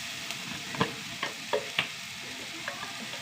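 Spice powders fry in a hot pan with a soft, steady sizzle. A spoon stirs them with several light scraping taps, all fairly quiet and close.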